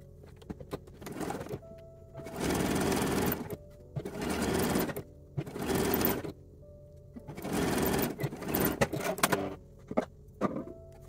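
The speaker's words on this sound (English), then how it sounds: "we're going to stitch these together with a 1/4 inch seam allowance on each side" A sewing machine stitches fabric pieces together with a quarter-inch seam allowance, running in several loud bursts of rapid whirring separated by short pauses and small clicks.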